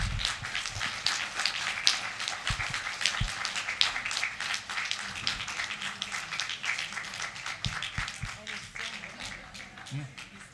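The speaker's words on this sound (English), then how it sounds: "let's give him a great, great round of applause" An audience at a board open session gives a sustained round of applause, dense clapping at moderate distance that tapers toward the end.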